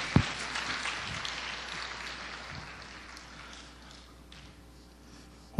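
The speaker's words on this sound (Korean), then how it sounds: "다시 한번 우리 높으신 하나님께 영광의 박수를 드렸으면 좋겠습니다." Applause from a church congregation at a youth group dedication service in a Korean church, a soft, distant patter of clapping that gradually fades across the room, with a couple of sharp knocks at the edges.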